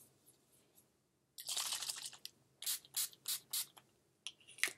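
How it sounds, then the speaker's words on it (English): NYX First Base primer spray misted onto a face: a burst of sharp, hissing spritzes, one longer spray followed by four distinct short pulses and a final quick pair, close and loud with no talking. "Now I'm just going to prime with the NYX First Base Primer Spray"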